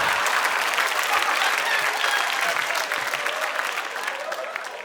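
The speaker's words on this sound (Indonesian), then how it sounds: "Tepuk tangan buat handphone dulu." A stand-up comedy studio audience claps loudly, a dense burst of applause that holds steady before tapering slightly toward the end.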